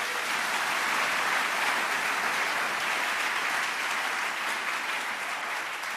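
A church congregation at a Sunday worship service applauds steadily, a dense wash of many hands clapping that holds at an even level throughout with no voices standing out.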